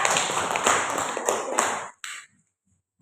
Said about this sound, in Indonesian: aplaus buat Delva ya